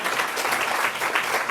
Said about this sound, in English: Please give an applause for them